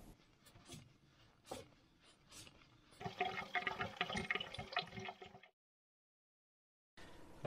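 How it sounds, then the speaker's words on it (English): Coolant pours from the disconnected bottom hose of a barn-find Morris 1300 radiator, a close, gurgling and splashing liquid stream that grows heavier midway, then stops abruptly before faint sound returns at the end. "disconnect the bottom hose, try and get rid of all the coolant"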